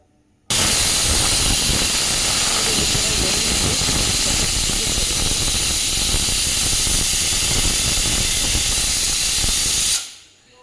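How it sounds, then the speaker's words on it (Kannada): A pressure cooker of alasande beans vents steam in one long, loud, continuous hiss that starts abruptly, holds steady for about ten seconds, then fades out. "ನಾನು ಇವಾಗ ವಿಷಲ್ ಮುಚ್ಚಳ ಹಾಕ್ತಾಯಿದ್ದೀನಿ ಇದು ಏಳೆಂಟು ಕೂಕ್ ಹಾಕೋ ತನಕ ನಾವು ವೆಯ್ಟ್ ಮಾಡಬೇಕಾಗುತ್ತೆ"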